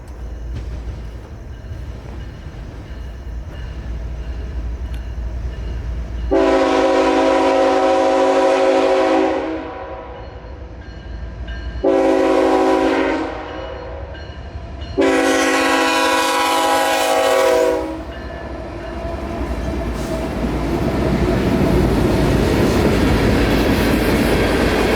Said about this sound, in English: Tonight, K851 is running as a solid molten sulfur train bound for the Bone Valley